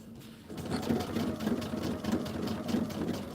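A sewing machine runs steadily, stitching seams on a quilt panel with a continuous mechanical whir and a faint rhythmic pulse, close and alone.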